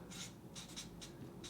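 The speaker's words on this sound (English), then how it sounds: "let me write it for those of you who are not familiar" Handwriting with a pen, a series of short scratchy strokes in quick bursts, close and quiet, with no talking.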